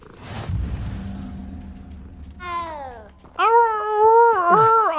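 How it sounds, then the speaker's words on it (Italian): Cats meow in the Hogwarts Legacy video game, two drawn-out, wavering meows close up after a rumbling background bed, the second long and loud. "Che belli questi gatti!"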